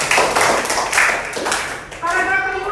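Children in a sixth-grade elementary classroom clap their hands together in a few short bursts of rhythmic clapping, close and fairly loud, mixed with kids' voices, before the sound settles into a brief spoken phrase.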